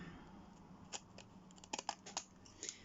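Scissors trim craft material in a few quiet, uneven snips, close and faint with no talk.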